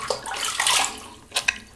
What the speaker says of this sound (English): rinse and get ready for pass number 3